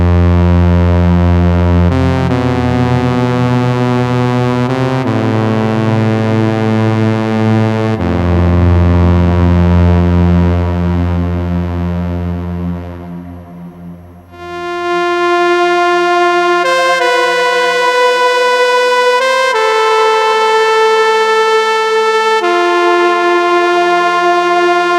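A sustained electronic wind-like synth melody from a Vangoa Aerophone MAE 02 electronic wind instrument through external reverb, rich harmonics and a reverberant wash, held notes shifting in pitch, briefly fading before resuming louder and brighter.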